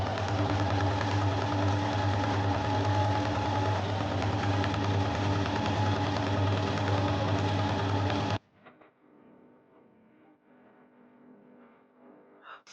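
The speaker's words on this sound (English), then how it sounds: "I'm gonna fold this down and top stitch here." A sewing machine top stitching a fold of fabric runs with a steady mechanical hum for about eight seconds, then stops abruptly, leaving faint rustling and small handling noises.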